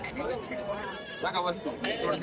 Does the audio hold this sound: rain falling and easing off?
no